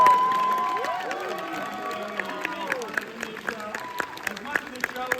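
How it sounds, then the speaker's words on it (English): An audience at a live comedy show in San Francisco cheers and whoops, with sharp claps scattered through the noise. Shouts rise over the crowd at first, then give way to bursts of clapping. "Give yourselves a round of applause."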